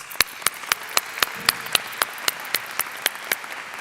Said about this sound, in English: So please join me in giving them our first round of applause